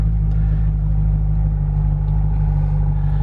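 Car engine idling steadily in a Home Depot parking lot just after being started, a constant low rumble with a droning hum, close and loud, unchanging for the whole stretch with no talking.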